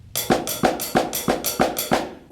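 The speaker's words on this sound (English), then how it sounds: "The right hand on the ride cymbal." A drummer plays even triplets with the right hand on a ride cymbal: seven bright, ringing strikes at a steady, moderate pace, close and alone.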